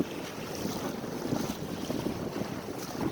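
Wind and waves against a sailboat moving fast, heard as steady gusty wind roar on the microphone mixed with splashing water rushing past the hull, loud and unbroken throughout.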